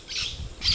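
Harsh high-pitched calls of conure parrots in trees ring out from a distance, a couple of shrill bursts over faint low background rumble.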